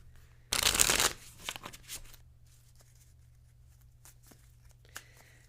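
A deck of psychic reading cards is shuffled in one loud, dense riffle, followed by a few softer card taps and handling clicks in a quiet room.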